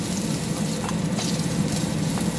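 Fish pieces frying in hot oil in a home kitchen for a Bengali fish curry, giving a steady, close, dense sizzle that runs unbroken throughout with no talking.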